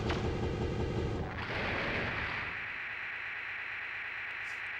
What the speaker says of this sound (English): Trying to utilize the cannon a little bit more.